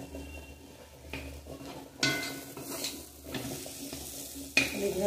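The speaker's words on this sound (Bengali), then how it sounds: "নাড়তে নাড়তে শাক ভাজাটা হয়ে যাবে" Kalmi (water spinach) greens are stir-fried in a pan, with a light steady sizzle under repeated scraping strokes of a spatula and sharp metallic knocks against the pan, close and unhurried, with no talking.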